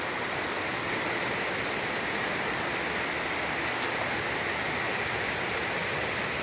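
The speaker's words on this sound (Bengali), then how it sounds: "তো গাইস, অনেক বৃষ্টি পড়তেছে, অনেক।" Heavy rain pours steadily onto a rooftop at a grandmother's house, a dense, even wash of drumming water with no pauses and no voices.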